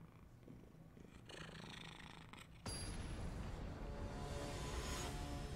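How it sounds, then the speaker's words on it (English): A cat purrs in a low, continuous rumble close up, the sound growing noticeably louder and fuller partway through. "He's purring pretty loudly."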